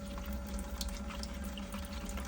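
Plaster powder mixed with water for pouring models, a continuous wet sloshing and stirring texture with soft churning noise throughout, close and fairly steady, no talking.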